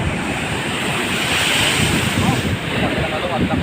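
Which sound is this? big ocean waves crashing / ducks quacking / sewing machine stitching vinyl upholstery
big ocean waves crashing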